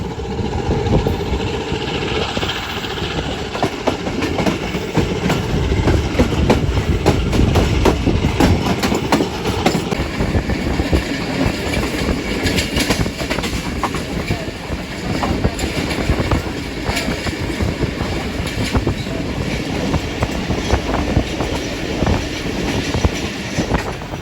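A train hauled by a ZCU30 locomotive rumbles loudly along the rails, wheels clattering in a steady clickety-clack beneath a continuous engine drone, close by and unbroken.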